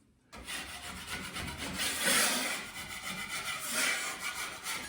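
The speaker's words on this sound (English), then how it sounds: "And so I'm gonna scrape them a little bit." Putty knife scraping dried Red Devil filler off patched holes in a wall, a close rasping scrape in repeated strokes that starts abruptly after a brief silence and continues for several seconds without speech.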